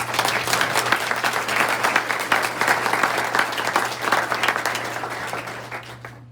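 Audience at a Des Moines Public Schools meeting applauding students, a dense, steady round of clapping from a sizeable crowd lasting several seconds before tapering off.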